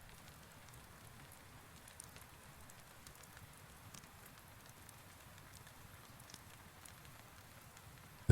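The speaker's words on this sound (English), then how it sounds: "The rain comes back a little heavier and settles into that steady, patient tapping along the roof." Rain falls steadily on a roof as a faint, even patter with scattered soft drops and no voices.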